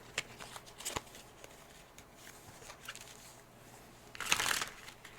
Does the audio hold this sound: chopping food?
no